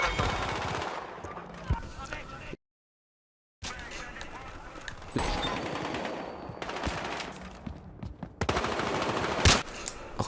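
Loud rifle fire and rapid gunshots in a Battlefield Hardline multiplayer match, with long-range sniper shots and bursts of automatic fire broken by a short silent gap, under occasional game sounds.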